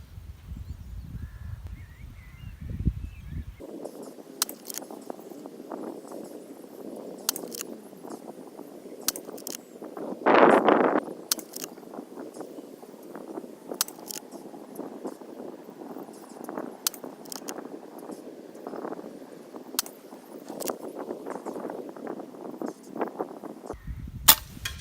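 An air rifle fires a string of eight shots while the shooter compensates for wind and holdover at a 35-yard zero. Each shot is a sharp, short crack, spaced seconds apart over a steady outdoor hiss.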